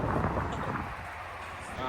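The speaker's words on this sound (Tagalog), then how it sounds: "Ang hangin." Strong wind buffets the microphone outdoors after rain, a low rumbling roar that booms loudest at the start and end and fills the whole short stretch.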